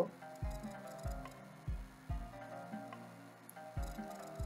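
Flour and salt are mixed in a bowl by hand for donut dough, producing soft repeated scraping and squishing strokes in a loose rhythm, close and fairly quiet.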